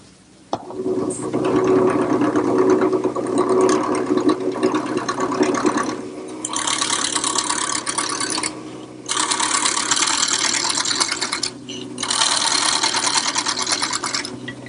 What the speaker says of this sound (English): Then I'll turn to my gouge and round off the area that's going to become the finial.